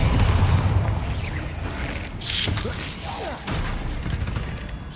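Depulso spell blast in Hogwarts Legacy, a loud forceful whoosh and thudding impact among clattering combat noise, with a sharp bright burst midway and further heavy crashes close by.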